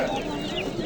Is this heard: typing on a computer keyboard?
no